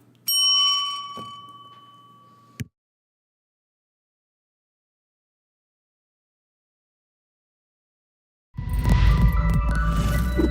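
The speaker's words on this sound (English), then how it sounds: "Bell." A bell ding closing a live real estate talk show rings out clearly and decays over about two seconds. A sharp click follows, then silence, before loud broadband noise starts near the end.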